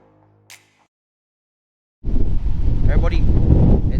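Strong wind at a beach campsite in Manypeaks, Western Australia, roaring loudly into the microphone as constant gusty rumble after two seconds of near silence.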